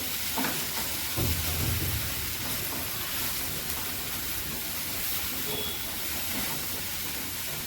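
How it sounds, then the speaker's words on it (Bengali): Soybean chunks sautéing in a pan produce a steady, moderately faint frying hiss, with a dull knock of stirring early on and otherwise an even, unbroken sizzle. "সয়াবিনগুলো ঢেলে দিলাম। সয়াবিনটা এর সঙ্গে কষিয়ে নেব।"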